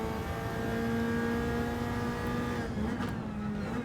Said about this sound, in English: as we start our first lap here